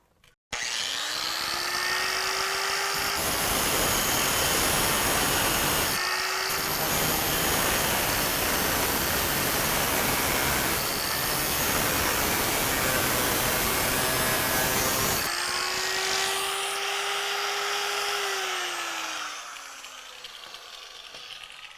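A power tool cuts through the sheet metal of a car's inner fender with a loud, continuous grinding whine that dips in pitch as it bites, running for about twenty seconds before fading off.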